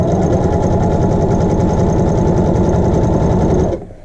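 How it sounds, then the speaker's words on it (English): A sewing machine runs fast and loud up close while stitching a hem sample, holding a steady rattling whir for several seconds before stopping abruptly. "I'm sewing at a slightly awkward angle for filming"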